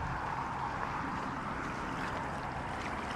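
A strong, fast river current in British Columbia rushes past in a loud, continuous broadband roar with a gurgling texture, close by and steady throughout, with no talking.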